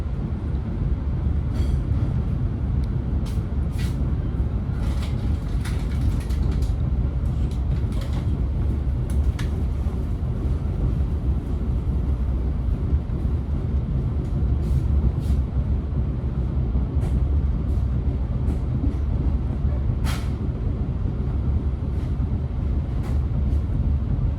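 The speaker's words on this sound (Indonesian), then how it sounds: "lokomotif dari yang tadinya ada di eksekutif 1 akan berpindah ke dekat pembangkit ke arah stasiun Cilacap" A locomotive shunting along the Sancaka train at Cilacap station in Indonesia, moving from the executive car toward the power car, gives a steady, continuous low rumble with faint intermittent metallic clicks and squeaks throughout, and no speech.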